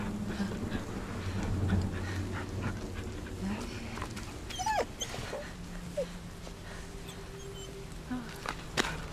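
A dog whimpering and yipping in the horror video game The Medium, short soft whines scattered over a dark forest ambience with faint game background sounds.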